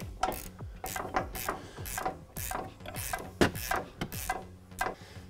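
Ratchet wrench clicking off the upper strut nuts on a 2021 Ford Bronco, a steady series of sharp close ratcheting bursts with brief pauses between strokes, no voices.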